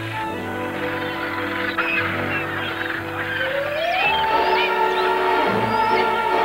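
Arctic ground-nesting birds honk and cackle in a dense, overlapping goose-like chorus, a busy flock calling continuously at close range without a break.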